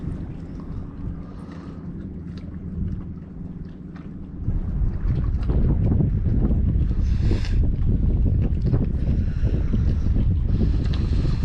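Wind buffets a microphone outdoors at a lakeside fishing campsite, a low roaring rush that grows heavier and more constant halfway through, with no talking.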